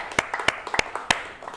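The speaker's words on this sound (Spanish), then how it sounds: "Vamos a dar un aplauso al gobierno." A handful of people clap in scattered, uneven beats at an informal gathering, a brief, thin smattering of applause that sounds close and faint.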